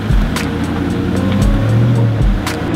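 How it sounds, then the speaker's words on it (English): A Jeep climbs a hill on an off-road trail, its engine a loud, steady rumble that swells in a few surges under heavy close-up wind buffeting, with no talk. "Jeep's coming up."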